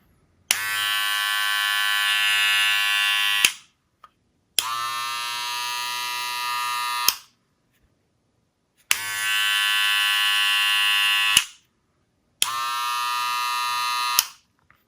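Cordless Senior hair clippers switched on and off four times, each run a steady high-pitched electric buzz lasting about three seconds with short silent gaps between, close and alone.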